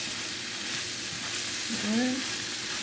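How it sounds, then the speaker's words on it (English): Steady sizzling of Jamaican ackee and saltfish stir-frying in a pan on high heat, a continuous hiss with a brief tonal squeak partway through. "remember we're stir frying"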